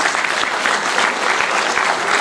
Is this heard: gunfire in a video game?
no